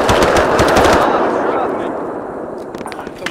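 Heavy gunfire in an Arma III Vietnam War campaign mission: a loud, close burst of rapid automatic fire that thins into scattered shots and distant rattling as it fades.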